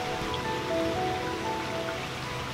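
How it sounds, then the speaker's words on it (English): Light rain falling outdoors in a vegetable garden, a steady soft hiss of drops spread evenly throughout, fairly faint with no voices. "It's raining a bit right now, but honestly, it's not too bad."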